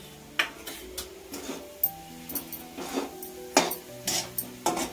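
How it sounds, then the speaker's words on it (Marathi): Grated carrot for halwa being roasted in Dalda and stirred in a pan, with a regular series of scraping and clinking strokes of a utensil over a gentle sizzle. "आता थोडा वेळ हे भाजून घेते आता डालड्यामध्ये"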